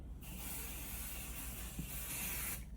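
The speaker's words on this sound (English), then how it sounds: "and I'm spraying it all across the top" A steady aerosol spray hisses continuously for over two seconds across rolled-up fabric, close and fairly loud, then cuts off.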